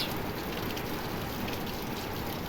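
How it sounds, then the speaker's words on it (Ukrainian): Light, even rain patters over an open field, a faint steady hiss of drops throughout with no voices. "О, все, оцей дощ."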